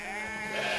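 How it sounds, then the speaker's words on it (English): One short sheep bleat, close and clear, with a nasal wavering tone lasting under a second. "Sheep."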